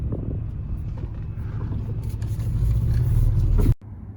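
A 1999 Acura Integra GS-R engine idles steadily with a low rumble, then cuts off abruptly near the end, leaving faint background noise.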